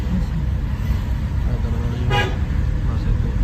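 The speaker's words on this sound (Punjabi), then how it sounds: "ਹੌਰਨ ਮਾਰੋ" A car horn sounds once in a short blast partway through, in a learner car during a driving lesson in Phagwara, over steady engine and road noise.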